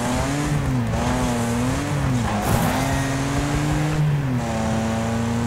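A race car in the video game Wreckfest brakes hard into a corner, its engine droning loudly and steadily with shifting pitch and a brief screech of tires midway.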